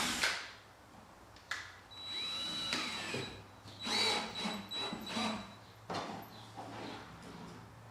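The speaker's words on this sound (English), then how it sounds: "You see I'm screwing them like this" Power drill driving screws while assembling a homemade exposure unit, with several short whirring bursts separated by pauses amid workshop handling noise.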